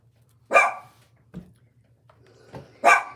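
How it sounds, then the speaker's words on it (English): A dog barks a few times in the background of an indoor room, two sharp, fairly loud barks about two seconds apart with a softer yip between them, over a low steady hum. "That's my dog in the background."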